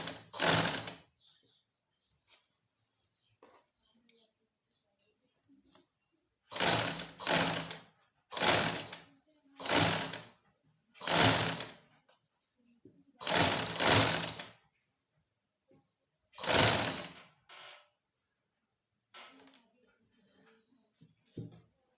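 Sewing machine stitching in short repeated bursts, each a loud buzzing run lasting about a second, separated by quiet pauses, close by.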